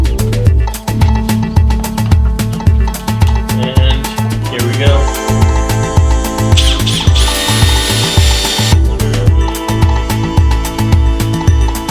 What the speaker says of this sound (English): flip this over and drill through the existing holes so we don't make new holes